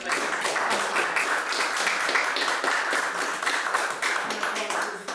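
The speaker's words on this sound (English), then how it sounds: "I really feel that we should just congratulate and applaud Dr. Yewande." An audience applauds a speaker at a talk on poetic landscapes and language, steady dense clapping for about five seconds at even loudness.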